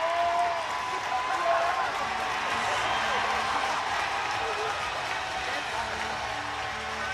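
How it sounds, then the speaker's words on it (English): Hockey crowd in an arena roaring and cheering during a fight, a thick continuous wash of voices and some clapping, loud and steady throughout. "Listen to this crowd."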